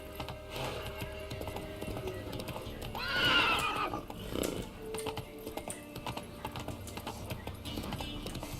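In The Witcher 3, a horse lets out a loud whinny midway while steady clip-clop hoofbeats trot along beneath it.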